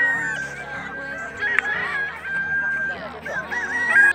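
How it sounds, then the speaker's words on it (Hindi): Many chickens and roosters at a cockfight cluck and crow continuously all around, a dense, busy layer of fowl calls with crowd voices mixed in. "भाई चारों तरफ मुर्गी है मुर्गी,"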